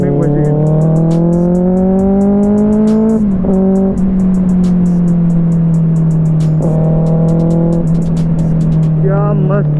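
Benelli 600i motorcycle with a loud aftermarket exhaust, revving up and settling back in long rising and falling pulls, very loud and close, with voices talking over parts of it.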